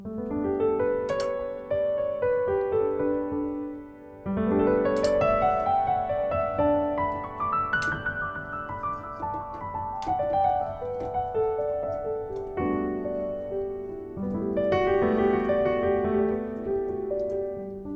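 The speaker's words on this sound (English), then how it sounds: "it's a Lydian scale or a Lydian mode." A bright G Lydian scale rises and falls in steady sustained notes, repeated a few times, played alone with a dreamy, airy color.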